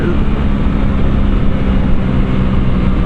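An Aprilia Tuono 660 Factory parallel-twin motorcycle engine runs loud and close, a dense, steady, rumbling drone that holds for the whole stretch with no voices.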